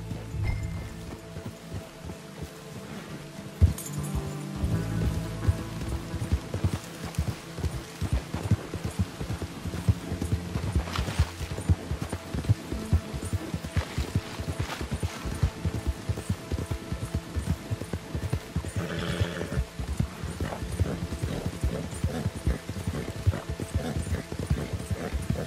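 Horse hooves gallop in a steady, rapid rhythm through Red Dead Redemption 2, close and continuous for a long stretch, with ambient game sound and a brief whinny-like tone partway through.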